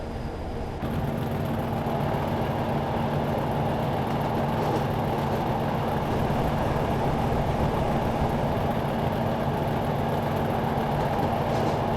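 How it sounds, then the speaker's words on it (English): Rolling stock of a BR Class 40 diesel train in Train Simulator 2016 rumbles past as a steady, loud, continuous roar with a low hum, lasting throughout without any voices. "Once the engine's gone past, and you just hear the rolling stock going past, just that classic noise."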